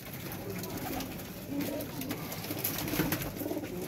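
A pigeon coos in low, rolling repeated calls, fairly close, over a steady background hum.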